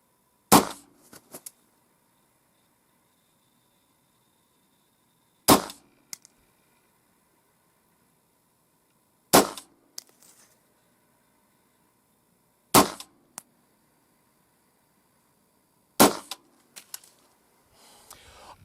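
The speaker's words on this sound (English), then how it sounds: "We'll fire a 5-shot group and see how it compares to our one-handed shooting." Five sharp, loud pistol shots fired from a pistol brace at a 25-yard target, spaced roughly three to four seconds apart, each a crisp crack with a short ringing tail and near silence between.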